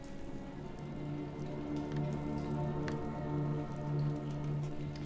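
Steady rain falls in Sherlock Holmes: The Awakened, a constant hiss and patter of drops with a low sustained tone droning underneath throughout, no talk.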